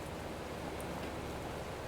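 Rain falling over a farm field in Farming Simulator 25, a steady even hiss of rainfall with no breaks, moderately loud, no voices.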